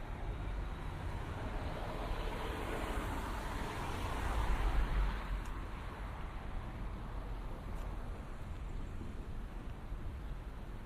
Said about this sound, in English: you should be able to hear the cars passing